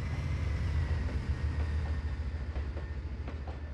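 A train rolling along rails in the Trainz 22 railroad simulator on the Yellowstone Mountain & Central line: a steady low rumble with faint rhythmic clicking, continuous and fairly close, with no voices.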